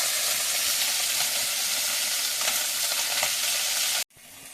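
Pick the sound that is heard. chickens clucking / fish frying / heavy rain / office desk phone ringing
fish frying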